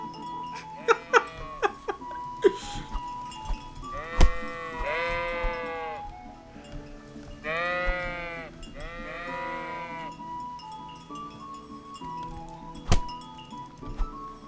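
Repeated sheep bleats in the medieval game Kingdom Come: Deliverance, several drawn-out wavering calls in two clusters, fairly close, with scattered thuds and clicks between them and no talk.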